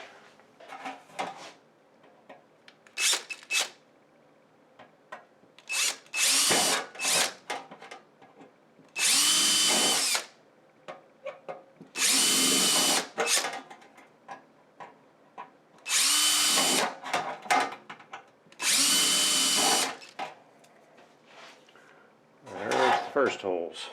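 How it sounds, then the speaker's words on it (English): A power drill whines in several loud bursts of a few seconds each, separated by pauses with clinks and handling noises. "I just got to drill them out."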